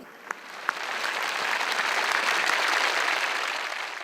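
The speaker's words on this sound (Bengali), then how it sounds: "আমাদের অবশ্যই স্কয়ার টয়লেট্রিজের জন্য আমাদের বড় করে একটা হাততালি দিতে হবে সবার পক্ষ থেকে।" A large audience at an award ceremony in Bangladesh bursts into applause that swells quickly and holds as a dense, sustained clapping, with a couple of sharp claps at the start.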